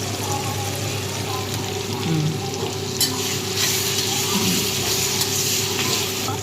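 Nethalu, small dried fish, cooking in oil in a pan with chopped tomatoes, giving a steady close sizzle with occasional stirring scrapes and faint background noise throughout.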